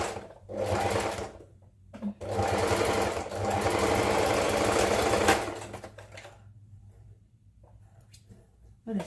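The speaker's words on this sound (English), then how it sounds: "I'm just stitching the other half on in." A sewing machine stitches fabric in two sustained runs of fast, even whirring, close and fairly loud, separated by a short pause and then fading to quiet.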